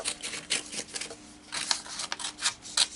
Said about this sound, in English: For the video purposes, I'm just going to use scissors.